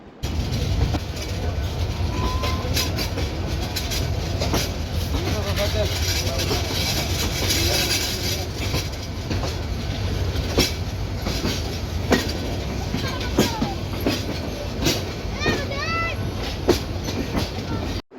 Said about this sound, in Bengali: আমাদের ট্রেনটি 1 মিনিট বিলম্বে 4টা 1 মিনিটে সিলেট থেকে ঢাকার উদ্দেশ্যে ছেড়ে যায়।